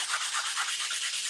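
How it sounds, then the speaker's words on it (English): Festool Granat Soft sanding sponge rubbed by hand over wood, a close, steady rasping hiss with a gentle back-and-forth pulse. "When you're sanding"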